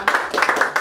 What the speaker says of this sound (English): Clap one time for the kids.